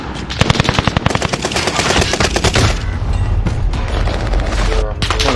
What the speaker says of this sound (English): Did he just body me with the pistol?